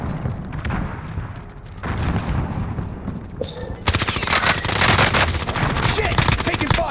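Sustained automatic gunfire in a video game, with bursts of rapid, loud shots that build into a dense, continuous barrage, close and harsh, and occasional booms underneath.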